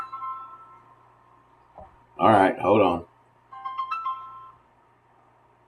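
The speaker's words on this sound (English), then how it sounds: "Phone's ringing." A phone rings with soft tonal chirps at the start and again near the end. A close voice speaks briefly in between, and the room stays otherwise quiet.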